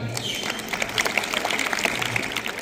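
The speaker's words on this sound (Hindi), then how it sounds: "आइए प्रधानाचार्य जी का तालियों से स्वागत करें।" A crowd gathered outdoors at a school's Independence Day celebration welcomes the principal with steady, scattered clapping that carries on throughout.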